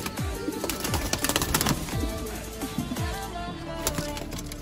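Pigeons cooing in a loft, several repeated low throaty coos in a steady rhythm, close and fairly loud over a busy background of other birds and faint rustling.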